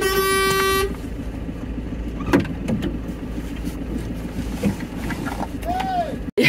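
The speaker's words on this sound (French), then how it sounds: "Et puis après, des klaxons." Car horns blare on a narrow, dangerous Georgian mountain road, one long sustained honk at the start followed by scattered shorter toots over a running engine and road noise, with people talking in between.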